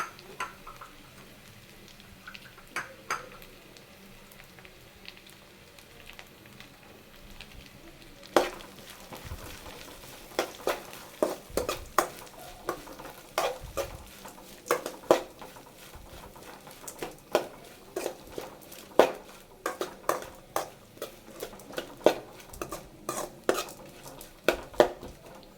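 Chopped onion, carrot and beans stirred in a pan: quiet clinks and scrapes of a spoon against metal, irregular and sparse at first, then steadier and more frequent, close but soft, with no talking.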